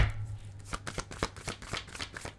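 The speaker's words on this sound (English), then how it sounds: "I feel like I want to shuffle again." Tarot cards are shuffled by hand in quick riffling bursts, a rapid series of crisp slaps and flutters close up, with a faint hum underneath.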